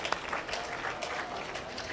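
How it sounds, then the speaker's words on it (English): Spectators at a 4-H/FFA beef show applaud the Hereford cattle class in the show ring, a soft, distant wash of steady clapping with a roomy, open feel. "Let's put our hands together for that Hereford class and give them a round of applause."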